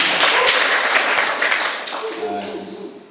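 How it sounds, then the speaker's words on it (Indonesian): Audience applause at a stand-up comedy event, a dense, loud wash of many hands clapping that slowly fades as a voice begins talking over it. "Kita berikan tepuk tangan"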